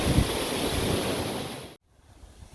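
Water rushes loudly through a canal lock gate paddle, a dense close roar of flow lasting under two seconds before cutting off to near quiet.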